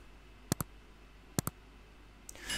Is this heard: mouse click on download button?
yes